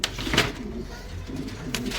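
Pigeons coo in soft, low rolling calls, two or three nearby phrases repeating over a steady background hum.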